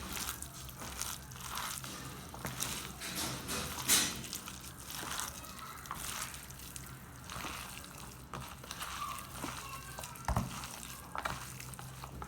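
Chopped Chinese cabbage is tossed and stirred by hand for homemade kimchi, giving close, wet crunching and rustling with irregular squelches at a soft level.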